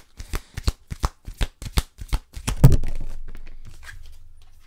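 Oracle cards are handled and shuffled close up, a quick series of sharp crisp riffling flicks followed by a longer soft slide of cards settling.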